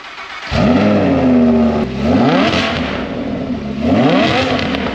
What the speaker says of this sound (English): You got to do a cold start, no bumper style.